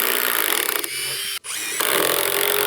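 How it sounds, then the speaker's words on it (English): A power drill whirs steadily as it pre-drills a hole in deck wood on a curved deck edge, loud and close, with a brief pitch change partway through and a short pause before it resumes. "So I'm gonna go ahead and pre-drill this."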